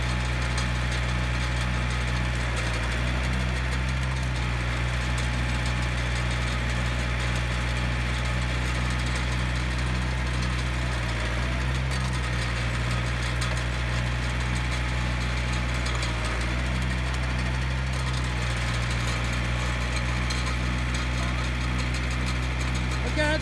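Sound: post hole auger engine running

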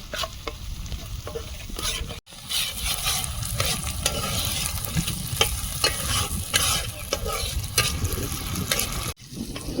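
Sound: tomato spice masala frying in oil for koi fish

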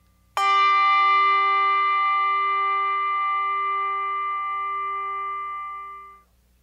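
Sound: bell struck with hard plastic clapper

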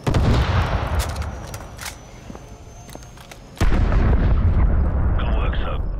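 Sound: Stinger missile launcher firing in Call of Duty video game

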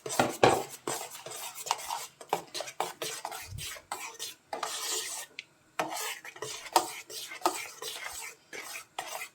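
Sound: stirring ketchup in a pot

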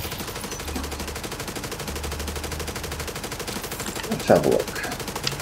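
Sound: rifle gunfire in the video game The Division 2

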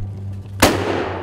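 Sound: gunshot fired through trees at deer during driven hunt

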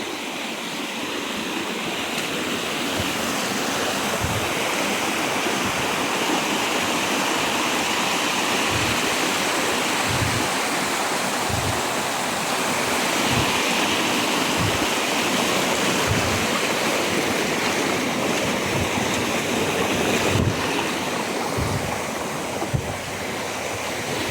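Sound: strong flowing water current

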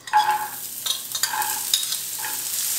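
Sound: chopped squash frying in oil in a pan

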